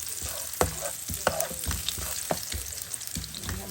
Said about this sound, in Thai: ขิงกับกระเทียมนะฮะสำคัญมากนะ เราจะผัดให้หอมนะคะเพื่อน